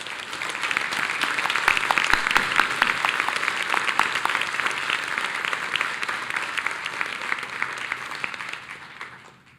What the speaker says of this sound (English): I'd like for us to do one more round of applause for the leadership